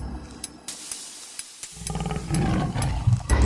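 A tiger in an animated children's story, attacked and wounded by a mini JCB's bucket, gives a loud close roar that swells in the second half after scattered thumps and hits.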